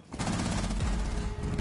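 Rapid gunfire in Rainbow Six Siege during multiplayer play, a dense continuous burst of close, loud shots lasting over a second with no talking.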